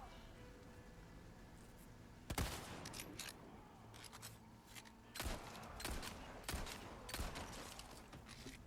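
Shotgun blasts in Resident Evil 4 Separate Ways, several sharp, loud booms spaced a second or more apart over a low game background, with smaller clicks and rustles between shots.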